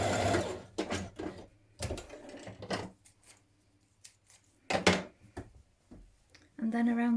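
Domestic sewing machine stitching the two centre front pieces of a hoodie hood together, short close bursts of rapid whirring stitching separated by quiet pauses, with a brief voice near the end.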